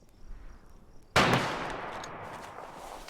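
A machine gun nest opens fire in the war game Foxhole, a sudden loud burst of gunfire that breaks into a long, dense crackle and slowly fades over a few seconds.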